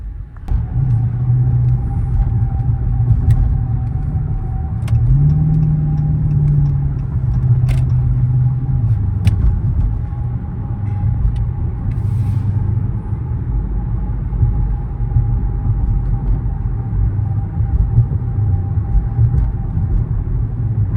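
A V6 Dodge Charger cruising in traffic, its engine a steady low rumble with road noise that stays loud and even throughout, with no speech.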